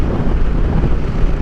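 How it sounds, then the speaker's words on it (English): Steady, heavy wind buffeting the microphone lid, a constant low rumble with gusty fluctuations and no voices. "definitely windy. You can probably hear that on the lid"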